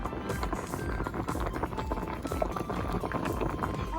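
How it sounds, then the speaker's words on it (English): Water from a kitchen sink tap runs into the basin to thaw frozen tofu, giving a steady, faint rushing splash that holds unbroken throughout with no voices. "So I'm just gonna put it in the sink, drain it, and fill it with water so it can thaw a little quicker."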